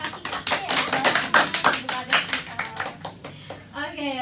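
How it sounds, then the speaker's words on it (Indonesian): Hands clap together in a short round of applause, the individual claps sharp and fairly close, irregular and fading slightly, with a voice speaking briefly near the end. "Tepuk tangan dulu Kak Kartika."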